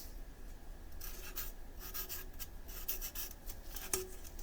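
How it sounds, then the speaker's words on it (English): A label written by hand: soft, close scratchy pen strokes in short bursts over a quiet room hum, with one small tap near the end. "let's write down what it is"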